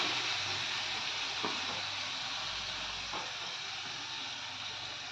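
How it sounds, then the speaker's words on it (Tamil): Tomato puree and paneer sauté in a pan, giving a continuous soft sizzle and hiss with a couple of faint stirring scrapes, steady and close, without talk. "இப்போ வந்து டொமேட்டோ பியூரி, தக்காளி பேஸ்ட்டு அதே போல் நல்லா வதக்கணும்."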